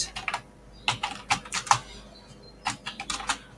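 Quick bursts of typing on a computer keyboard, clustered key clicks with short pauses between runs, close and fairly clear, with no talking.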